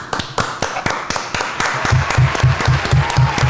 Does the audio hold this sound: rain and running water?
no